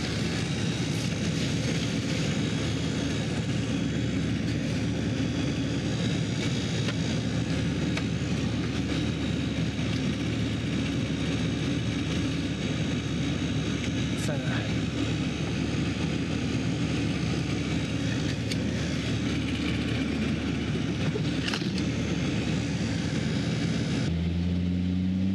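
A large abandoned monster truck engine runs steadily with a loud, dense roar, close and continuous, then shifts briefly near the end.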